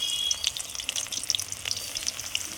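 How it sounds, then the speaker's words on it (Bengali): Batter-coated banana flower bracts go into hot oil a little at a time, crackling and bubbling in a busy, close sizzle with sharp spitting pops scattered throughout. "একটু মাখিয়ে নিয়ে গরম তেলে অল্প অল্প করে দিয়ে দিচ্ছি"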